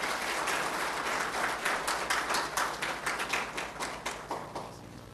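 Full-room applause at an African business awards ceremony, many hands clapping together with individual claps standing out in a loose rhythm, gradually thinning and fading toward the end.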